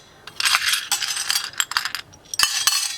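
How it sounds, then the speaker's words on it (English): Dry pasta pours and rattles into a stainless steel bowl in quick bursts of bright metallic clinking, with short pauses between scoops. "the child is just going to work on opening the little cup and transferring the pasta from one bowl to the other"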